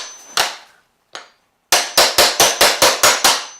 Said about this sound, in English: you can take your little hammering tool here